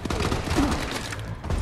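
Rapid gunfire bursts from Call of Duty Advanced Warfare, a video game, in a flag-capture multiplayer match, dense and continuous over a low rumbling game mix.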